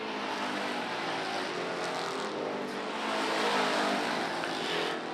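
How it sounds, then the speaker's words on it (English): Race cars roar along a track during a lap battle for the lead, engines droning loudly and continuously with a swelling pass midway, heard alone. "They both chase after Peckham, and it is Mike Welch taking the number 2 spot by a half car length on lap number 5"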